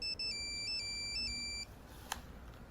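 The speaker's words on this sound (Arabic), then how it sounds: "جاوب التليفون، جاوب ولا خفتي؟" A telephone ringtone plays a repeating electronic melody of high beeping tones for about a second and a half, then cuts off abruptly and leaves a quiet room.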